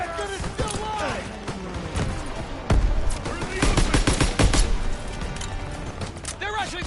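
Sustained gunfire in Call of Duty: WWII, with bursts of rapid shots and heavy impacts under shouting voices, loud and close with a dense battle din.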